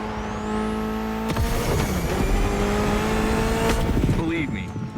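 Mitsubishi inline four-cylinder with 280 horsepower in The Crew Motorfest, revving loudly with rising and falling engine tones and squeals through a continuous run, with speech-like tones over it.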